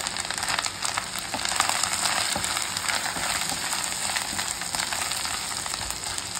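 Chopped tomato drops into a hot pan already holding garlic and ginger paste, setting off a loud, continuous, crackling sizzle of frying that stays steady throughout with no talking.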